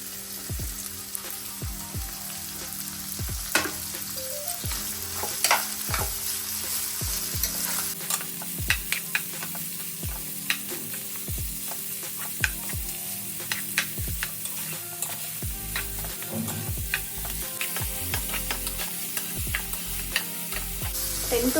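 Chopped beans hiss and crackle steadily as they stir-fry for a breakfast dish, with repeated spatula scrapes and taps against the pan throughout.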